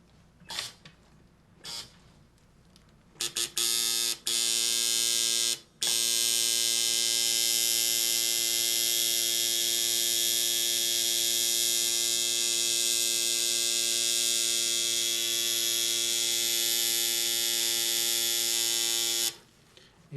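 A tattoo machine buzzes steadily while drawing a line, loud and close, after a few short start-and-stop bursts, then running continuously for a long stretch before cutting off.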